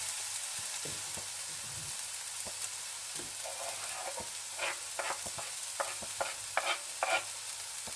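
Garlic and onion sizzle in a pan while being stirred, a steady hiss broken by scraping stirs and sharper crackles that grow busier toward the end; no one speaks.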